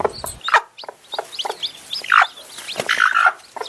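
A brooding hen with newly hatched chicks makes repeated close clucks mixed with the chicks' quick high peeps, busy and irregular and heard alone with no talk.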